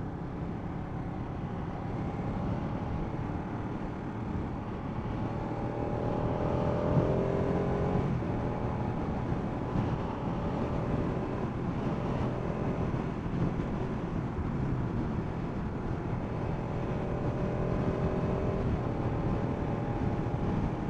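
Ducati 959 Panigale motorcycle riding along a UK motorway and road, a steady loud engine drone with rising revs and wind roar throughout, no talking.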